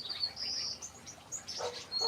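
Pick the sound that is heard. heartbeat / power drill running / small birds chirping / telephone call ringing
small birds chirping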